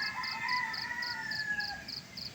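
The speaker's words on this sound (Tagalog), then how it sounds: "itong tilaok ni matinis masyado" A rooster with a very shrill voice crows in the morning, a single long, high, drawn-out call heard close and clear, with faint rhythmic chirping behind it.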